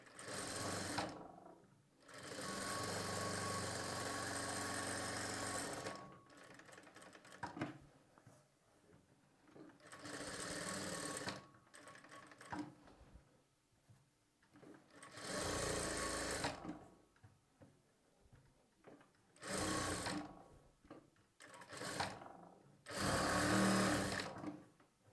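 A sewing machine stitches lining onto fabric in several loud, sustained bursts of rapid whirring, separated by short pauses with quieter handling noises.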